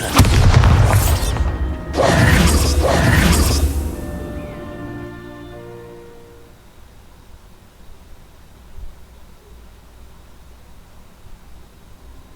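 Bombarda explosion spell in the Hogwarts Legacy video game: a heavy, loud boom with rumbling bursts over about four seconds, then a long ringing, shimmering decay fading into quiet.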